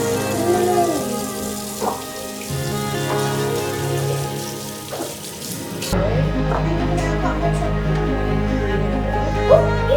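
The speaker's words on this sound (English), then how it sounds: "Gonna miss washing your chubby little hands." A small child's hands are washed under a running tap at a home sink, with steady water flow throughout, a noticeably louder gush in the second half, and faint voices in the background.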